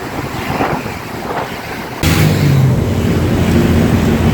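Sea water and wind around the Maldives China Friendship Bridge make a constant rushing wash, with heavy wind buffeting the microphone that grows louder partway through.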